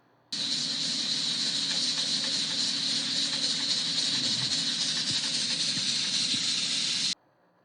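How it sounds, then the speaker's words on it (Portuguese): Steam escapes from a pressure cooker in a loud, steady hiss that starts abruptly, holds for about seven seconds and cuts off sharply, with no voices. "Você observou que começou, né, vapor saindo aí da panela"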